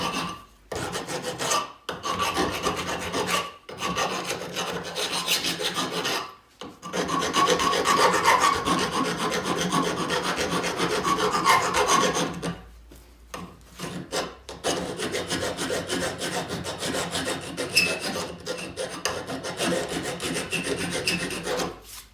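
A metal part for a firebox door on an offset smoker is polished with a steady, harsh rasping rub, a close, continuous abrasive sound that breaks off in several brief pauses, with no talk.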